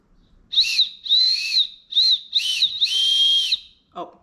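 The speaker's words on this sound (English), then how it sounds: "I will test the whistle so you can hear what it sounds like." A shrill safety whistle on an Osprey 40-liter backpack blown in several short, sharp blasts with brief gaps between them, loud and close.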